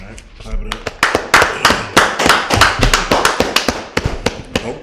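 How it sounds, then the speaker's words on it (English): A church congregation claps hands together at a Sabbath service, with loud, steady, rhythmic claps that continue throughout at close range. "All right, clap it up."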